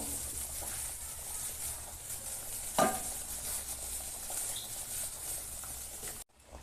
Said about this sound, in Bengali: মাংসটা ফুটতে থাকুক আর একটু ফুটুক